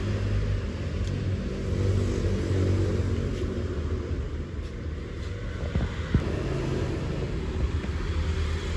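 A Honda Brio's engine idles at a steady low rumble after starting, the even hum continuing throughout with faint clicks and a small bump midway.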